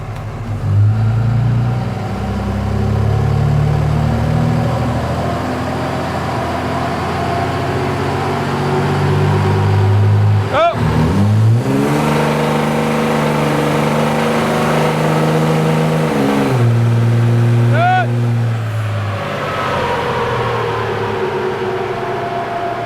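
A 2005 Dodge Cummins 5.9L diesel truck with an ATS atomizer module set to its highest setting, run on a dynamometer, its engine loud and close as it rises through repeated pulls and rev changes with no talk.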